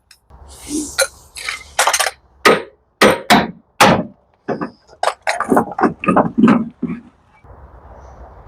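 Hammer blows on a Saab axle stuck in the wheel hub: a run of irregular, sharp metallic clanks and knocks, close and loud, some in quick bursts, with no talking.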